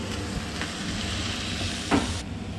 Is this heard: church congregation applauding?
no